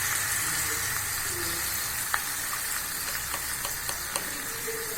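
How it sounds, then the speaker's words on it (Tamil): Ground masala paste poured into a hot pan for Tamil-style egg gravy sizzles and fries steadily, with a few faint clicks of a spoon against the pan throughout. "அரைச்ச விழுத இதில் ஊற்றிடலாம்"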